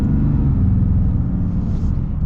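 A 2023 Ram 2500 Longhorn Mega Cab pickup accelerating, a loud, steady low engine rumble heard from inside the cab, with no other sounds over it.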